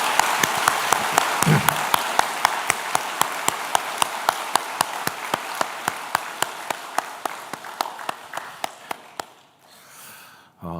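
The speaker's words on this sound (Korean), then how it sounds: "뜨거운 박수 한번 더 보내드리겠습니다" Church congregation applauding at a special dawn prayer service, a broad wash of clapping with sharp rhythmic claps on top that gradually thins and fades out, followed by a short spoken voice at the end.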